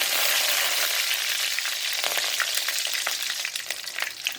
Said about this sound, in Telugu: ఆనియన్స్ వేసుకొని వేయించుకున్నాం.